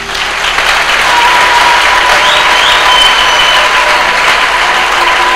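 An audience applauding continuously, dense and loud clapping from a large crowd close by, sustained at an even level throughout with no pauses.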